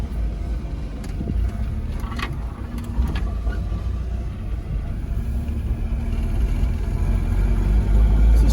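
A Holden VL Commodore engine runs steadily with a low, continuous rumble that builds slightly toward the end, with no voices over it.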